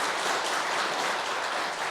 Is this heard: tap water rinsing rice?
no